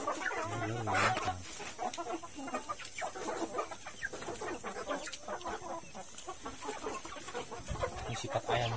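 Free-range village chickens cluck and squabble noisily while pecking at corn feed, a steady close flock chatter with people talking intermittently over it.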